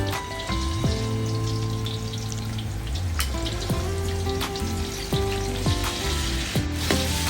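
Loud sizzling and crackling of garlic and fermented soybean paste stir-frying in a hot wok, with repeated scraping clanks of a utensil against the pan.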